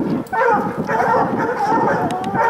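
Coonhounds bark and yip at a raccoon treed outdoors, a steady run of close, loud barking with a few whimpers, while someone talks over the dogs.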